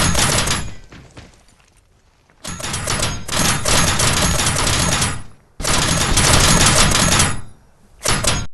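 Video game gunfire in long, loud sustained bursts of rapid automatic shots, close and dense, broken by brief pauses and ending in a short final burst, with no talking over it.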